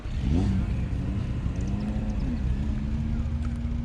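A 1966 MG Midget "Spriget" racing at the Gilmore Car Museum, its engine lugging low and strained in second gear, a steady close drone that sags and wavers in pitch without rising.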